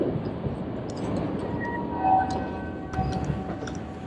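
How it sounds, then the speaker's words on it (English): A commuter train in Amsterdam pulls in with a steady low rumble and rail noise, brief high squeal tones and clanks rising midway, heard from the platform. "Is this our train?"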